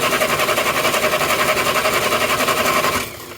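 A Morris Minor engine cranks over on the starter with the ignition off for a compression test, giving a rapid, even, rhythmic churning close by that stops abruptly near the end.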